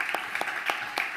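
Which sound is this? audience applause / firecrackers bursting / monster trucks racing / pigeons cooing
audience applause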